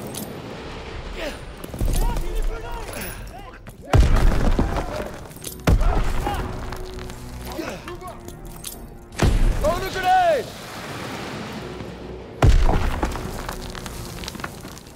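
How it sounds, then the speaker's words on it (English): Grenade blasts in a Call of Duty WWII campaign battle: several heavy, booming explosions burst out at intervals among gunfire and debris. Shouted soldier voices call out between the blasts. "Lobbing a grenade!"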